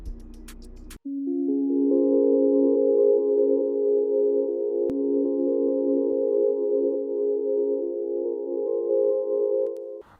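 A sustained synthesizer pad from an Alchemy preset for an ambient beat swells in after a short burst of noise, holding a smooth, layered chord steadily at moderate volume until it cuts off near the end.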